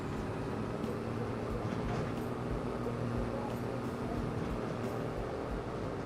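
Rumbling train crossing a bridge in the Farming Simulator 25 game world, a steady low roar with faint clanking that holds level and continuous throughout, without anyone talking.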